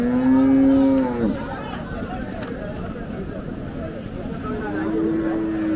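Holstein Friesian cattle moo loudly nearby at a village livestock market, one long low bellow at the start and another later, amid a busy background of crowd murmur and chatter.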